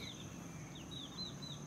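Faint, high-pitched chirps from small chicks come in a few quick peeps over a soft background hiss.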